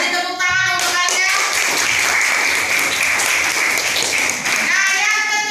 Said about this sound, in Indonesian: beri tepuk tangan untuk Alia